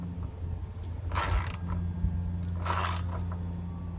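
Ratchet tightening bolts on a strut tower brace fitted to a 2017 Dodge Charger Scat Pack V8, two quick bursts of rapid clicking close up over a low background hum.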